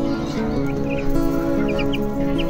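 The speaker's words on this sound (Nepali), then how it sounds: "त्यो दामी रहेछ नि त कुखुराको बच्चा" A chicken chick gives faint, quick high peeps, a few short chirps in a row over a low background hum.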